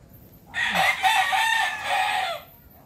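An old Texas gamefowl rooster crows once, a loud, drawn-out cock-a-doodle-doo lasting about two seconds against quiet background.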